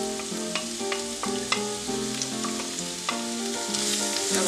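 Onion fries in about two spoonfuls of oil in a pan over medium heat, sizzling steadily and close by, with faint crackles and a soft tonal background underneath.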